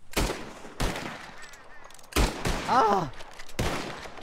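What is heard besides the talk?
gunfire shooting at flying birds in Red Dead Redemption 2, video game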